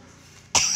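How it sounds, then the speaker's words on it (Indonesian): A single short cough bursts out after a quiet moment, close and loud, with a throat-clearing quality. "Batuk dong."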